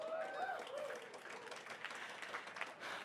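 An audience at a conference talk claps briefly, a soft, dense patter of applause that stays steady for a few seconds with faint voices mixed in.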